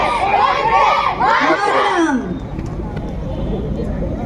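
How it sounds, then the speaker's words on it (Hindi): Loud cheering and excited shouts from a crowd with many children follow a kids' patriotic dance performance at a Republic Day event, whooping voices rising for about two seconds before settling into softer crowd noise. "जोरदार तालियां हो जाए बच्चों के लिए"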